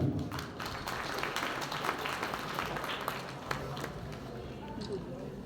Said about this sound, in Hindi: अनुरोध के जोरदार तालियों से उनका स्वागत करें, अभिनंदन करें